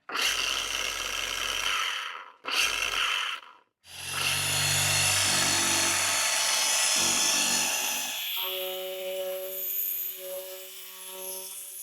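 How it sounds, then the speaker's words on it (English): A car paint polisher with a cut pad and Gold Standard polish cream whirs loudly against a panel in short bursts, then runs continuously before winding down into a lower, steadier hum. "That's a nice polisher right there."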